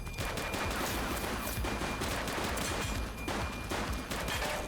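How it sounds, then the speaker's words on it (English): Dense gunfire rattles continuously in the police video game The Precinct, with rapid overlapping shots in a sustained loud barrage and no talking. "Shots fired!"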